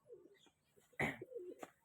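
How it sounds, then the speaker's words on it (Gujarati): Soft pigeon coos drift in a few short rolling phrases, faint and nearby, with a brief flutter-like burst in the middle as pigeons are released. "તો ચલો આપણે આપણા પહેલાં કબૂતર છોડી દઈએ"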